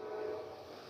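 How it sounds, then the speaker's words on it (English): A train near a railroad station, heard faintly and at a distance as a steady low rumble with a sustained horn-like tone through the short moment. "you can hear the trains coming by on my show"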